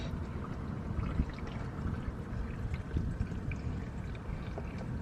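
Engine oil draining from a Toyota RAV4 Prime, a steady low liquid pour and trickle running continuously and close by with no talking.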